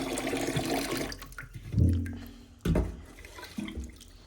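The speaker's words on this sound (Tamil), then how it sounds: "ரேகை வரைக்கும் தண்ணி எடுக்கிறது ரைட் இந்த அரிசியை கொஞ்சம் கூடுதலாக தான் தண்ணி வைக்கணும்" Water pours into a pot of rice before cooking over a wood-fired stove, in several splashing, gurgling bursts separated by brief pauses, close and fairly quiet; no talking over it.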